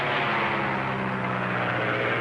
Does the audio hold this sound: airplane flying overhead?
yes